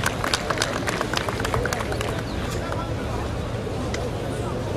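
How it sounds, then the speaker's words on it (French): An audience at a French-language induction ceremony applauds golden book members with dense, steady clapping from a crowd, with a murmur of voices underneath. "Applaudissez pour ces membres de livre d'or, s'il vous plaît."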